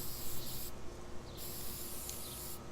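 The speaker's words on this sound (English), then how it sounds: "I'm going to go ahead and paint them black." Spray paint hissing from a can in short bursts with brief pauses as metal corner brackets are coated black, close and fairly quiet, with no talk.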